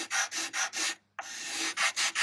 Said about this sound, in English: I am sanding across the grain here